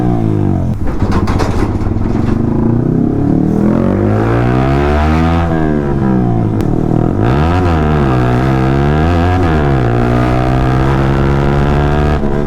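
A Yamaha R15 V3 motorcycle fitted with a loud aftermarket exhaust revs hard, its pitch sweeping up and down through repeated throttle blips, loud and close, with no talking over it.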